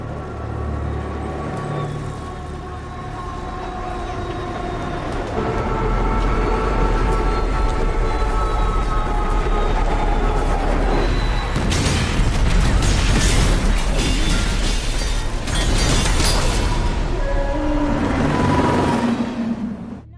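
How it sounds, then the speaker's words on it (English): Ten million pounds of train crash in a movie scene, a loud sustained roar of rumbling, grinding metal that swells and breaks into heavy crashing bursts over about twenty seconds. "That was 10 million pounds of train, Mr. Galvin."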